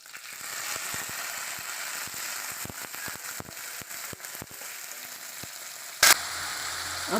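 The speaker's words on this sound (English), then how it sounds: "Put my omena inside." Omena, small fish, frying in hot cooking oil on a cooker, with steady crackling sizzle and irregular pops throughout and a sharp loud burst near the end.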